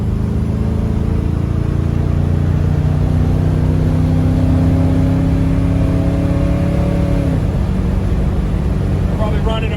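Engine of a 1975 Chevrolet Suburban restomod pulling steadily up to highway speed, a loud close drone climbing in pitch for several seconds before a gear change drops it, over road and wind noise.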